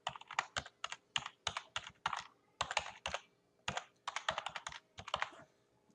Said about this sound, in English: I could just type in